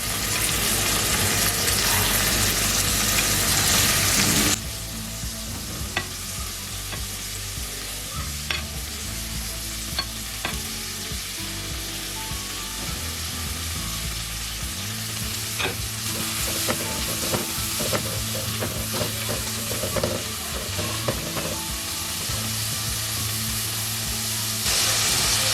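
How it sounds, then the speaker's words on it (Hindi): Onion, tomato, garlic and ginger fry in a pan, a continuous sizzle with frequent stirring scrapes, close and steady throughout. "प्याज, टमाटर, लहसुन अदरक को मैं अच्छी तरह पहले फ्राई कर लूँगी"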